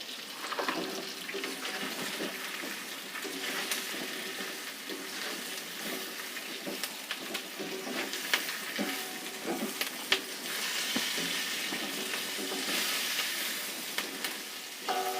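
Fried chicken pieces go into a hot pan with capsicum for chilli chicken and are stir-fried, a continuous sizzle broken by scraping and clattering stirring knocks throughout.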